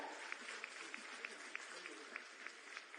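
Applause from the audience at a company launch event in Jharkhand, faint and distant, a steady dense patter of clapping with occasional sharper claps standing out.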